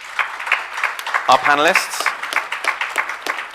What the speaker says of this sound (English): Could I just ask for one round of applause for our